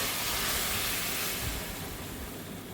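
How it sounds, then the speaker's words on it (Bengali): Hot water poured into a cooking pot of yam and prawn curry gives a steady, loud broadband rush that keeps going without a break and eases off slightly toward the end. "এবার আমি একটু গরম জল দিয়ে দিলাম।"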